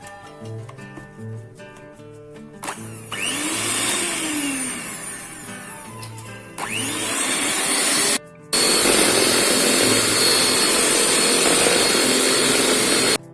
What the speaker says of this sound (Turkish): Ve çırpmaya başlıyoruz.